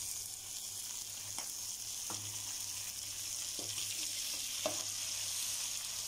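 Tomatoes added to a sizzling mutton karahi, a steady bubbling fry with several scraping taps of a spoon against the pan, quiet and close.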